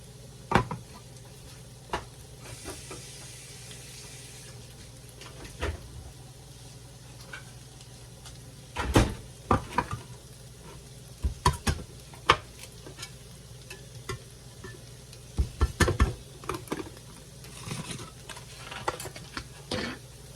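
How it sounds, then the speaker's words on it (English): Coconut milk poured and stirred into simmering pot pie filling in a pot, with a low steady bubbling, faint sizzle and scattered spoon scrapes and clinks against the pot. "I'm gonna go ahead and add my coconut milk"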